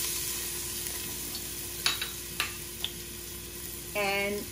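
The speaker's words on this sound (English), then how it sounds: "once it heats up, it has to heat up nicely, then you add the garlic" Garlic frying in a hot pan for prawn curry gives a steady sizzling hiss with a few light clicks, then a louder burst of sizzle near the end, with no one talking.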